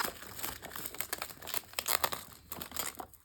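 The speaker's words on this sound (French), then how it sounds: "on enlève le petit film protecteur, tout simplement" Protective plastic film is peeled slowly off a SAW 4K steelbook, giving a close, continuous crinkling and crackling with short tearing bursts and no voices.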